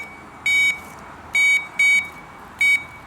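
Four short electronic beeps from a multimeter doing a continuity test on the resistors of a Camaro brake light, each tone lasting about a quarter second, evenly loud and close, with quiet background between them.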